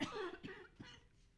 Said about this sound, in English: I'm going to cough, sorry.